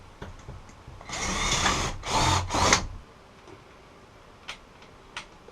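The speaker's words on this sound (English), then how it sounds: "Looks like I'm going to have to drill a couple new holes here." A power drill boring holes in the dashboard of a 1988 Thompson Fisherman 240 boat, in three close, loud bursts back to back, followed by a quiet stretch with a few faint clicks.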